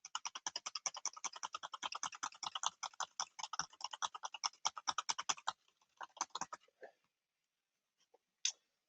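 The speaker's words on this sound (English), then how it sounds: "this is me just mashing keyboards, trying to get as many transactions as I can" A computer keyboard is mashed in a rapid, uneven flurry of clacking keystrokes for several seconds, then slows to a few scattered taps and pauses before one last loud press.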